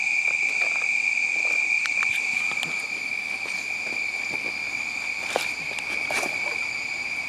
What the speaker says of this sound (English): You can hear the cicadas in the trees going ballistic.